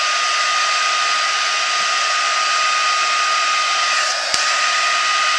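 A hair dryer blows steadily and loudly to dry white ink on paper, a constant close-up whooshing roar with a brief click near the end.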